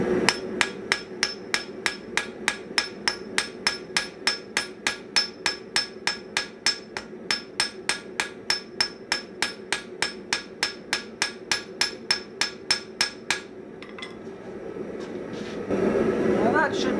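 A newly made blacksmith's hammer strikes metal in a long, evenly paced run of sharp ringing blows, roughly three per second. The strikes are close and clear, then stop, and a low rumble of the workshop follows.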